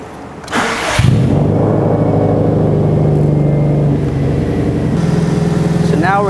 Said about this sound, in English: now we're going to go start the car to make sure that the battery starts up fine